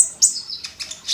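A konin sunbird gives a quick series of high, thin chirps and tweets, close and clear against a quiet background.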